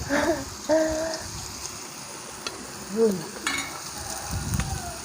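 Shrimp and pork belly sizzle on a moo kratha grill at a home meal, a soft steady crackle that runs under intermittent talking.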